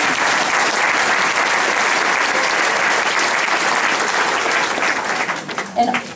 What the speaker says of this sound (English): just applaud her again if you want